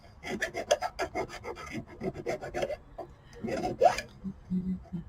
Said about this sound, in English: And then just file any sharp edges that are left.